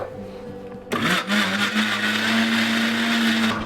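A kitchen mixer grinder blending curry paste for a spicy mutton curry kicks on after a short quiet moment and then runs as a loud, steady whirring drone with a rising motor pitch until the end.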